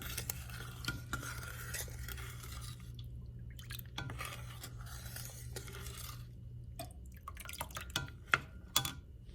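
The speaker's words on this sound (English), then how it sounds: "While the milk is coming to a boil, we will keep on stirring it" A spoon stirs milk with chopped almonds, pistachios, milk solids and sugar in a pan. Soft liquid swishes and occasional metallic clinks and scrapes sound close by over a faint low hum.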